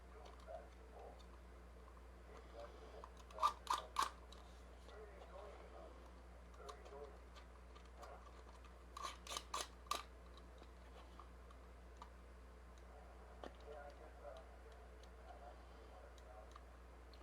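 Paper dividers for sorting nuts, bolts and washers are cut with two separate clusters of sharp, crisp snips, each a quick run of cuts, over a low steady background hum.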